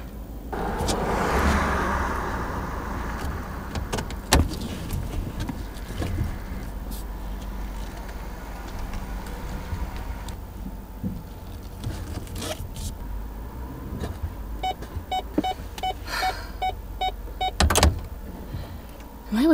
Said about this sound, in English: second time in one day that I need to back a vehicle down my driveway